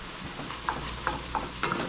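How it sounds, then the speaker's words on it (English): A spoon or spatula stirs salt, pepper, garlic powder and onion powder into mushrooms in a pan, giving a steady soft scraping with four light, evenly spaced clicks over a faint sizzle. "Get that mixed up in the mushrooms."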